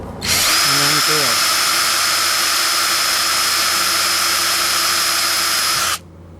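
Power drill with a 1/8 inch bit boring a pilot hole through a plastic Rubbermaid shed wall, a steady high whine running for about six seconds after a brief low sound at the start, then stopping abruptly.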